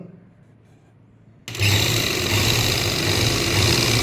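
A sewing machine stitches a lined salwar, starting abruptly after a quiet moment and then running at a steady, fast, loud whir close by until the end.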